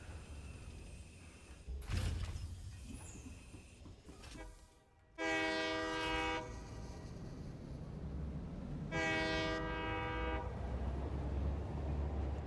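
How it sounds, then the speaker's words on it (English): A train horn in the game Satisfactory honks in two long, loud sustained blasts separated by a few seconds, with the first preceded by a brief shorter toot, over a low rumbling background. "I'm going to be honking a lot."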